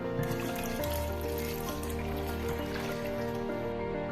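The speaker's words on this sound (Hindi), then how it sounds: "पानी शामिल करेंगे" Water poured into a pot of dal gosht already holding onion, garlic, ginger, cinnamon, black cardamom, salt and chili, a steady close trickle and splash over a continuous low kitchen background.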